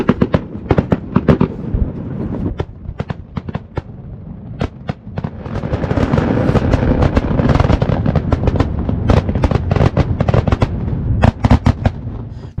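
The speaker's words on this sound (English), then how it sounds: "then were treated to an impressive firework display" Fireworks crackle and bang in rapid, irregular bursts, some sharp and close, others rumbling, building into a dense barrage.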